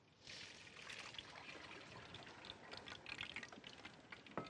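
Hot water poured into two cups in a home kitchen while cooking, a steady soft trickling splash running for several seconds at low, close level with no talk.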